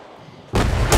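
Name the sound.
grenade exploding in a video game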